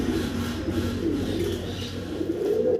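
Serampuri high-flyer pigeons, a breeding pair, coo continuously and close up in a dense, rolling low murmur that holds steady until it cuts off abruptly.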